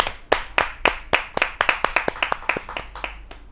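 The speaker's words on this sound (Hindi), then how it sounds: "जोरदार तालियों से उनको आमंत्रित करना चाहता हूं, रीता सिंह जी।" A small audience at a Hindi kavi sammelan claps to welcome a woman poet on stage: about a dozen crisp, separate handclaps, close and distinct, spaced unevenly at first and then quickening into a brisk run before trailing off.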